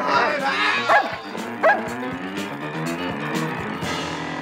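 A big dog barks fiercely, driving off two drunken hoodlums from a house in a dramatized story, with several loud woofs and yips scattered over the clip amid shouting voices and commotion.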